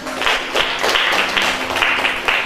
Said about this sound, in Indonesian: Terima kasih bos, tepuk tangan.